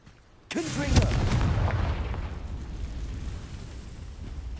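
A Confringo fire spell explodes in Hogwarts Legacy: one sudden, loud blast after a brief quiet, followed by a long rumbling decay.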